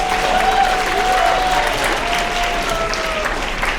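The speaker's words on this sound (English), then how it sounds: "Round of applause to them." Applause from a school audience at a writers week event, honoring teachers, fills the room with a dense, steady wash of clapping that holds at a constant level throughout.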